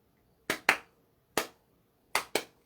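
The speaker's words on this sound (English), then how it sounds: "So it's 2 quick claps and 1 short clap." Sharp hand claps in a repeating pattern of two quick claps followed by one single clap, crisp and close against a quiet room, keeping time as a chorus accompaniment.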